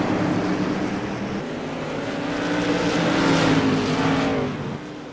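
Tour Modified race cars on the oval at Irwindale Speedway roar steadily and loudly, engine tones rising and blending as the pack runs through the turn, with a continuous droning wash throughout.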